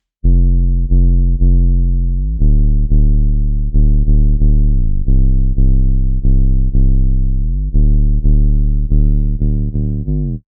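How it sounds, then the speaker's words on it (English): A buzzy, muffled low-pass square wave synth bass plays a steady run of punchy notes with occasional pitch slides, loud and up front with nothing else. "The bass here is just a low-pass square wave."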